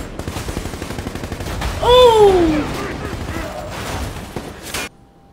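Rapid gunfire from the war film American Sniper rattles as a dense run of sharp shots under a loud scene, with a shout rising above it partway through, before the sound cuts off abruptly.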